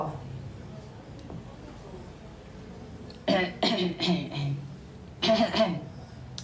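Several quick coughs come in two bursts, close and fairly loud, with quiet room noise between them.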